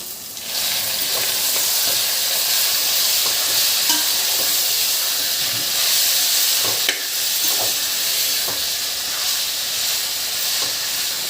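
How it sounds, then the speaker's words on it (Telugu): Chicken frying in a pan with onions, green chillies and ginger-garlic paste, a steady loud sizzle and hiss throughout with occasional stirring scrapes, close up and with no talking. "ఆనియన్స్ వేగిన తర్వాత చికెన్ వేసుకోవాలండి."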